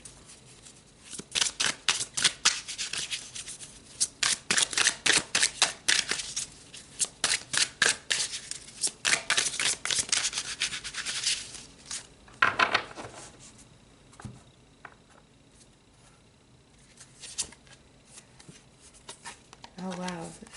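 Tarot cards are shuffled by hand in quick, crisp riffling bursts for several seconds, close and clear, then give way to softer, sparser card handling with quiet talk in the background.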